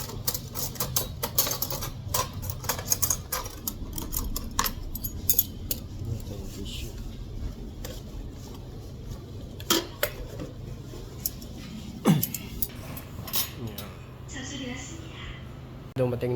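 Metal forks and chopsticks clinking and jangling as they are picked up at a restaurant in South Korea, close sharp taps and rattles scattered throughout while someone talks.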